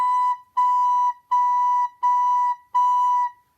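A single clear, pure recorder note repeated five times, each start crisply tongued, with short even gaps between, close and alone.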